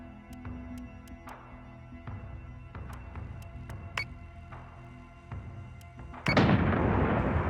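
Weapon fire strikes the Manticore in a Battlestar Galactica Deadlock space battle: a series of sharp, spaced impact cracks and thuds, followed by a louder, sustained roaring blast near the end.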